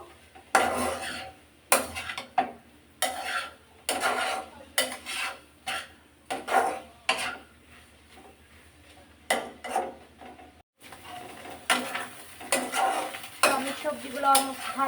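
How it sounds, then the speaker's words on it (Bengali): Capsicum, tomato and other vegetables stir-fried in a small pot for vegetable fried rice: repeated scraping and clanking of a utensil against the pot in irregular strokes, with a soft sizzle underneath. "ভাজা ভাজা করে নেবো"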